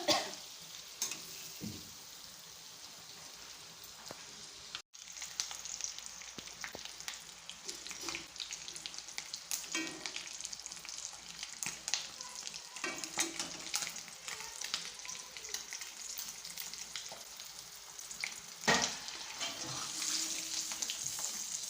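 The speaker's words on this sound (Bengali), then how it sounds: "লবণ হলুদ দিয়ে একটু ভেজে নিব ডিমটা লাল টুকটুকা করে।" An egg fries in hot oil with salt and turmeric, giving a continuous close sizzle and crackle across the whole stretch with occasional stirring scrapes and no talk.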